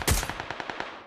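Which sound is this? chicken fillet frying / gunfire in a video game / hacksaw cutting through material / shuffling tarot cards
gunfire in a video game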